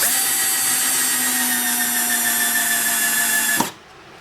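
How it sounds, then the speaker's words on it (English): A power drill drives Kreg washer-head screws into pegboard, a steady high whine running continuously for several seconds, close and loud, then stopping abruptly. "Just zipping in some screws, and I'm just putting them in at the corners"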